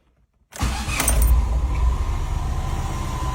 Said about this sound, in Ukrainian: показую, як запускається автомобіль. Вмикаємо запалювання